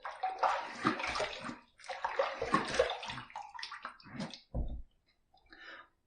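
A Wilkinson Sword Classic safety razor is rinsed under running water in a few splashing bursts, the flow cutting in and out with short gaps and a drip near the end.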